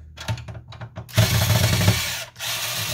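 Power screwdriver backing out the screws that hold the formatter board in an Epson WorkForce WF-2650 printer: a few soft handling clicks, then one close, loud whirring burst under a second long that stops abruptly.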